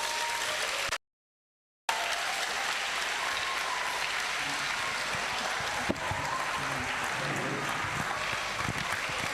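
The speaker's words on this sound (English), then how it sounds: "Ladies and gentlemen, please join me to put a seal to her professorship with another round of applause." Audience at a university inaugural lecture gives a sustained round of applause, steady crowd clapping heard from within the hall, with a brief dropout near the start.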